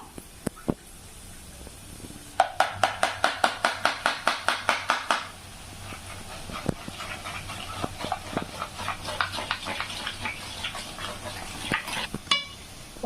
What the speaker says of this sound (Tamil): அதே மாதிரி எல்லாத்தையும் நம்ம ஊற்றி ஊற்றி பொரிச்சு எடுத்துக்கலாம்